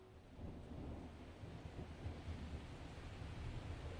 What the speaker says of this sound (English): I could hear rain, loud enough that it woke me